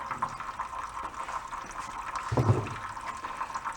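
Water pours and splashes out of a free portable generator being repaired, its fuel system badly flooded; a steady liquid trickle runs throughout with a brief heavier gush midway, close and fairly quiet.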